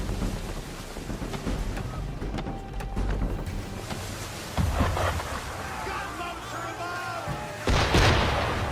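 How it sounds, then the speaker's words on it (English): Cannon or gunfire booms at a boat on open water in Assassin's Creed III, with heavy blasts near 4.6 and 7.7 seconds over steady wind, waves and engine-like rumble, and low background voices. "Why is he shooting at us?"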